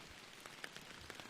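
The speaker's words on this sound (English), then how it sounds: "rain is cool in here. It gets a little annoying when it's loud in your headsets." Steady rain ambience in a swamp fishing video game, a soft, even patter of drops on surfaces with scattered louder drips, quiet and continuous with no voices.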